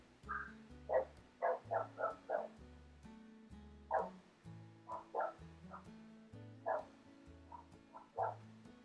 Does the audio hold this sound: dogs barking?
yes